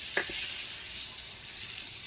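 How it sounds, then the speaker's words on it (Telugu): Hot tempering for coconut curd chutney sizzling as it is added, a steady bright hiss with a couple of quick crackles near the start, close and alone. "ఈ పోపు ఇందులో వేస్తే బాగా మిక్స్ చేసేస్తాము"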